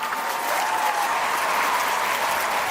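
A burst of cheering and applause from a crowd, set off by a chat command during a stream, sustained and fairly loud for nearly three seconds with no talking over it.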